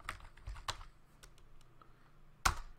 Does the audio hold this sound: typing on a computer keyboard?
yes